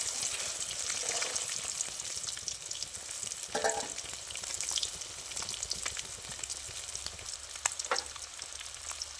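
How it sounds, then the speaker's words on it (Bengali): Eggs frying in hot oil in a kadai, seasoned with salt and turmeric, give a steady, close crackling sizzle with scattered sharper pops and a brief burst of stirring partway through. "এবার ডিমগুলো ভেজে নেব।"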